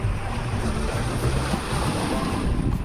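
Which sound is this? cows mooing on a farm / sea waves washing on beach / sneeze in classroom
sea waves washing on beach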